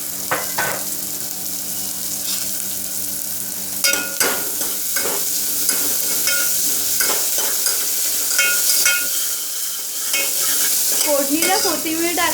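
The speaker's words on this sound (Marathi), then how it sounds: "फोडणीसाठी कांदा टाका" Onion, garlic and coriander sizzle in hot oil for a Malvani-style tempering, a steady close frying hiss broken by repeated scrapes and clinks of a stirring spoon against the pan.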